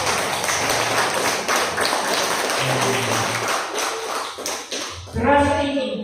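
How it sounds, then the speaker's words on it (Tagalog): An audience at a church sermon claps in a dense, steady patter of hands, and a voice begins speaking as the clapping fades near the end. "Sige nga, ituloy niya ang palakpak niya."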